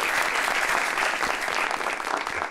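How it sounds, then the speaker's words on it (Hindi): A studio audience on a television talk show applauds for a guest's mother, a loud, continuous burst of clapping lasting a couple of seconds. "तो आंटी के लिए भी तालियां"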